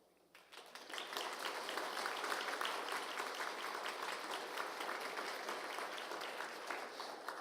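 A congregation at a church service claps loudly for a newly married couple, a dense sustained round of applause that swells in after a quiet start and holds steady.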